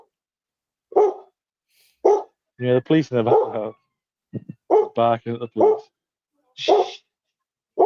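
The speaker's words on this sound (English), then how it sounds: "Barking at the police." Dog barking at police behind a house, sharp repeated barks in bursts, some close together and some spaced apart, loud and near, with a person briefly hushing it.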